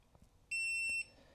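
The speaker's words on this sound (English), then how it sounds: "you can turn off the battery like that and it'll give you a quick single beep." A Viofo BP100 dashcam battery pack gives one sharp, clear electronic beep lasting about half a second as it is switched off, close and loud against a quiet background.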